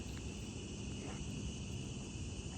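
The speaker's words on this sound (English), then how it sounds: "We slowed down so we could hear the evening peepers, as I call them" Evening peepers call steadily at sunset on a walk in nature, a faint, continuous high-pitched trilling chorus with soft background hiss, no voices and no clear breaks.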